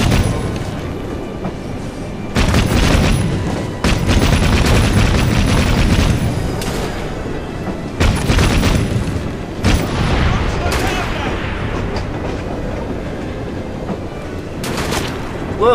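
Gunfire bursts in Assassin's Creed Syndicate ring out as loud repeated booms and rattling volleys over rumbling train-like noise, intense and close, with stretches of heavier fire and brief pauses.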